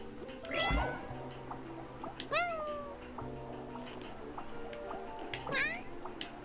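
A cat meowing in the video game Genshin Impact, three distinct rising-falling meows spaced a couple of seconds apart over a quiet background, with a voice talking nearby.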